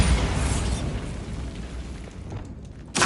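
A Bombarda spell explosion in the Hogwarts Legacy video game lands as a loud, deep boom that rumbles and fades over a few seconds, followed by a sharp crack right at the end.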